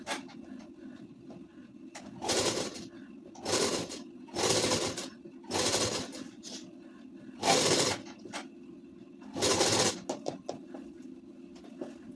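A sewing machine stitches the folded neckline of a ladies' suit in about six short bursts of rapid mechanical whirring, with quiet pauses between runs and no talking.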